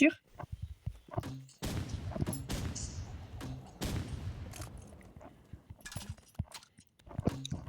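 Gunfire in a video game: a few sharp, loud shots and bursts ring out over a steady clatter of game noise, with voices talking at the start and the end.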